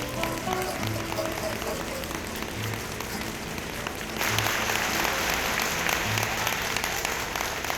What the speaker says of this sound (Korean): 기립박수를 딱 5초만 부탁드리겠습니다